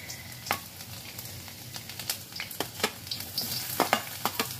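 Garlic frying in oil with eggplant in a pan, a gentle steady sizzle punctuated by a quickening series of sharp spoon scrapes and clicks as it is stirred.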